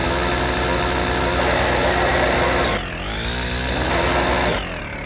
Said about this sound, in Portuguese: O corte de giro dessa moto é louco, hein? Corte de giro de carburada.